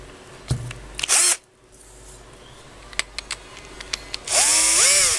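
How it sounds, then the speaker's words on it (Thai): A power drill gripping a 16-inch Hatari fan shaft whirs briefly, falls silent amid small clicks and handling taps, then spins up again loudly with a rising whine. "ใช้สว่านมาทุ่นแรงหน่อย แล้วก็จับไปที่แกน"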